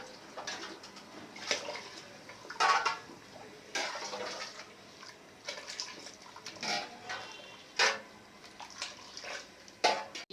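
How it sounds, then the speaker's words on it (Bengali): Water being poured from a mug into a pot of biryani with meat, potatoes and gravy, heard as repeated bursts of splashing and gurgling spread over several seconds, moderately close and without speech. "আমি 5 মগ পানি দিয়ে দিলাম।"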